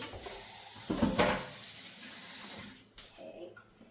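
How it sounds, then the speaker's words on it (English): Tap water runs into a kitchen sink while a bowl is rinsed after spring-roll making, a steady near splash that swells around the one-second mark and then settles to a softer flow before a brief clatter. "you can definitely put this into the sink and rinse it off"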